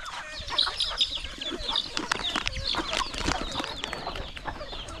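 Jungle fowl cluck and chatter in soft, scattered bursts at a distance, with faint outdoor background noise and no talking.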